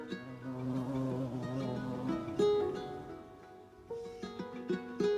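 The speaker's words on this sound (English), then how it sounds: "the bee flew out, buzzing happily towards a bed of flowers" A bee buzzes as it flies out of a glass into a garden, a steady droning hum with wavering pitch that dips briefly and then rises again, close and clear with no talking.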